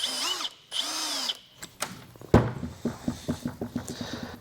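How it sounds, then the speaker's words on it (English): A handheld power drill whines in two short runs, then a series of rapid ratcheting bursts follows, near and loud, during a remote start install on a 2018-2019 Toyota Tundra. "All right, CJ, I need my drill."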